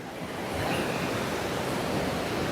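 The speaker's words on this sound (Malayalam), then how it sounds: "ഇടുക്കി റിസർവയറിലോട്ട് ഇടുക്കി ഡാമിലോട്ട് പോകുന്ന വെള്ളത്തിൻ്റെ പോക്കണ്ട എന്താ ഭംഗി" River water rushing steadily toward the Idukki reservoir during the monsoon, a continuous broad roar of flowing water close by, even and unbroken throughout with no voices.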